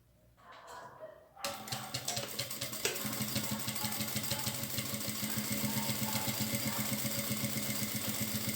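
A sewing machine sews a topstitch on a creative patchwork piece made from fabric scraps, starting after a brief pause and then running in a steady, fast mechanical whir with a rapid needle clatter, close and continuous.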